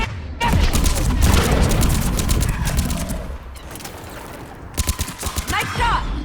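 Rapid bursts of automatic gunfire from a sci-fi shooter video game, Mass Effect Legendary Edition, crackle loudly in dense volleys, thin out midway, then return in sharper separate shots, with game voices speaking over the fighting.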